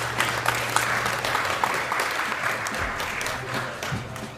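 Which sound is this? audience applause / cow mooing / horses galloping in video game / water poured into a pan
audience applause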